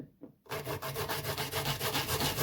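Raw pumpkin being grated for coconut pumpkin dumplings, a close, steady rasping scrape in quick repeated strokes that starts after a brief quiet pause and continues alone.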